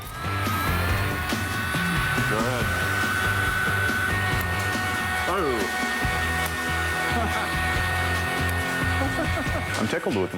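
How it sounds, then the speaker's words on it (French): An automatic card-throwing launcher machine runs with a loud, steady motorized whir that flings playing cards at over 100 km/h, continuous throughout, with voices faintly mixed in. "Le lanceur automatique de Jamie projette les cartes à plus de 100 km/h."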